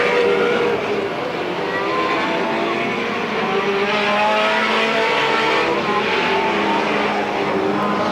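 Race cars roaring around Midvale Speedway during the 1995 Fall Classic as one car spins out, a continuous loud engine drone with tire squeal mixed in, dense and close, with no speech.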